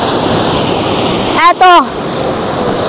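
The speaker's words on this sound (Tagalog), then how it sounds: "Yan, nakita ninyo, ito yung dagat." Sea waves wash onto a sandy beach at a resort in Dimasalang, Masbate, as a steady, broad surf wash, with a brief spoken word cutting in near the middle.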